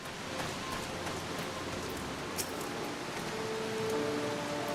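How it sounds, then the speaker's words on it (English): Steady rain pouring in the video game Final Fantasy XIV, a dense hiss of falling drops filling the whole scene, with faint tonal game sounds briefly rising near the end and no talking. "Standing in the rain."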